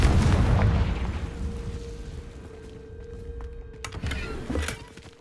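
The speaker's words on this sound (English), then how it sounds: "Confringo!" A Confringo blasting spell goes off in Hogwarts Legacy, a loud booming burst that decays into a rumbling tail with a steady tone, followed by a second smaller blast near the end.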